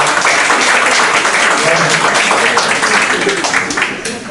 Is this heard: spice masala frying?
no